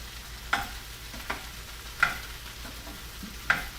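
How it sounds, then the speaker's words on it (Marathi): Okra being stirred with masala in a pan, three distinct scraping strokes spaced about every second and a half, with faint sizzling underneath and no voices. "आधी हे ढवळून घेऊया."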